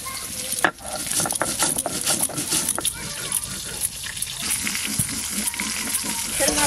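Fish head fries in hot oil in a home kitchen, giving a dense continuous sizzle and crackle with a few stirring clatters. A voice speaks faintly under the frying.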